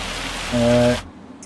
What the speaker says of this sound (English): Oh, it's hail.